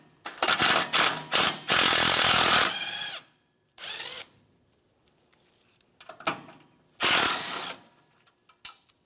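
Power tool ratchets and whirs in several bursts while backing out a spinning bolt on a 2007-2013 Mitsubishi Outlander AC condenser mount, pry bar applying outward pressure; long buzzing runs alternate with short blips and quiet gaps.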